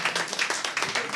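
Brief burst of audience applause at a public meeting for a municipal election list in Rezé, France: many hands clapping together in a dense, uneven patter, fairly close and alone without talk.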